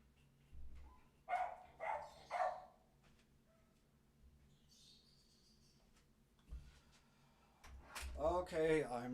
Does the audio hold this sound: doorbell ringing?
no